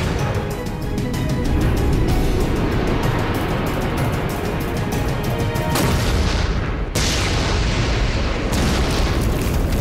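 A grenade-launcher explosion during a competitive coaches' challenge gives a loud, sustained roaring blast, with the booming noise filling the whole stretch and cutting out abruptly a couple of times near the end.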